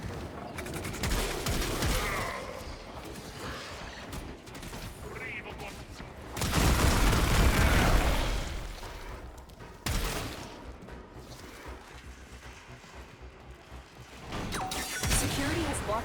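Explosive gunfire and crashing destruction as coolant cells are blown apart in a video game reactor sequence, loud bursts swelling and fading across the stretch with a voice speaking over the action.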